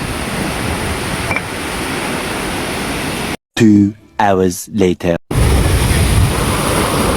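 Strong wind and crashing waves during several days of bad weather with rain: a loud, close, continuous roar fills the scene, broken briefly in the middle by a short spoken line before the roar resumes.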